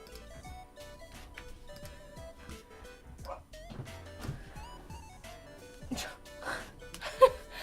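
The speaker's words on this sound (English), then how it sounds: "My dog just like woke himself up" A dog rousing from a deep sleep gives repeated high, wavering whimpers and yips with a few soft barks, close by and fairly quiet, with a louder yelp near the end.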